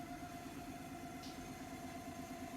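A vibration plate machine runs with a low, steady mechanical hum and buzz, continuous and faint, with no speech over it.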